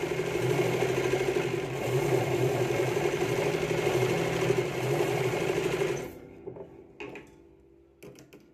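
Sewing machine stitching a finishing seam, a steady close whirring hum for about six seconds, then stopping with a few faint clicks and handling noises.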